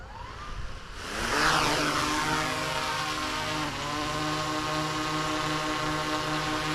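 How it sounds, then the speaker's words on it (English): A DJI Mavic 3 drone powers up and lifts off, its rotors rising into a loud, steady whine with layered harmonic tones that hold close and continuous through the flight after a quieter start. "We're got 15 satellites, takeoff permitted, so we're gonna go ahead and take off."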